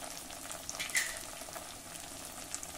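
Spices being sautéed in hot oil over a low flame for spicy Varhadi-style bazar dal, a soft steady sizzle and crackle with a few brighter pops, close and fairly quiet with no voices.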